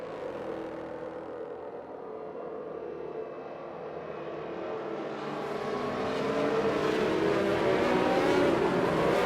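Formula 1 race cars in F1 2019 at Belgium, bunched up behind the safety car before a restart, their engines droning steadily and then swelling louder as they speed up through the final chicane.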